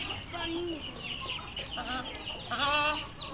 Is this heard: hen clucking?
yes